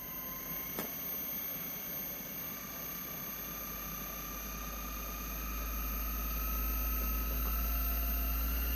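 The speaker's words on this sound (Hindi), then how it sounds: "ये देखें कंप्रेसर ऑन हो गया इसका।" A PEL Orient DC inverter air conditioner's outdoor unit runs as its compressor starts, giving a steady broadband hum with faint tonal whines and a low drone that gradually grows stronger.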